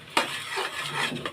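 Broken carob pieces dropped into a pan of caramelizing sugar and stirred, a short clatter followed by scraping and a soft sizzle, close and brief.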